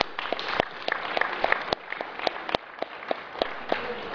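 Scattered audience applause at an MBA valedictorian speech, a thinner spread of individual claps with distinct sharp hand strikes popping out in a loose, uneven rhythm, moderately loud in a room.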